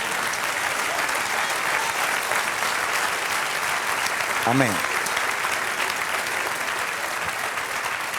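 A church congregation claps loudly and steadily throughout, a dense continuous applause close at hand, with one brief spoken word rising above it midway.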